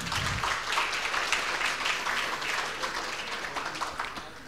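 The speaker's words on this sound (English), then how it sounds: "let us all once again give them a resounding round of applause for today's lecture" Audience applause after a memorial lecture on health and development: a crowd claps steadily at moderate volume, fading slightly toward the end, with no speech over it.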